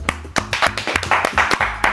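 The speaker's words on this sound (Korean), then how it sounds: "박수." Several people clap their hands outdoors after a large fish is caught on a fishing trip, a quick run of sharp, irregular claps close by with no talk over them.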